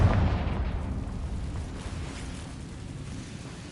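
Confringo fire spell blast in Hogwarts Legacy, a loud low explosive boom at the start that rumbles and slowly fades over a few seconds.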